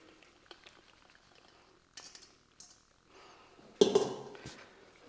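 Drained pasta tumbles into a creamy cheesy tomato sauce with one heavy wet slop, preceded by scattered clinks and soft clatters in a quiet kitchen.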